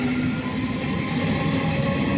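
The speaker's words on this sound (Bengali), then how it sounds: "দেখুন কি সুন্দরভাবে ট্রেন ছুটে যাচ্ছে" A train departing Goghat station rumbles steadily nearby, a continuous low roar of rolling wagons with a faint metallic hum over it.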